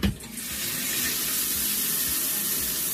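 Tap water runs steadily into a sink or tub for hand-washing a fursuit, a constant close hissing splash after a brief knock at the start.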